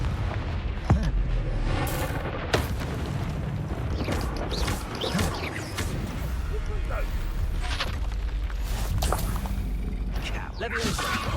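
Repeated Confringo spell explosions in the game Hogwarts Legacy crack and boom over a dense, busy backdrop of combat noise, with sharp bursts scattered throughout and a voice talking underneath.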